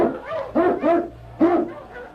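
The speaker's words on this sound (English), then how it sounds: "King, the swiftest, strongest of Eskimo lead dogs, blazes the trail through storm and snow for Sergeant Preston" Eskimo sled lead dog barking in a Yukon setting of storm and snow, three loud separate barks with a faint earlier bark, set against a low steady hum.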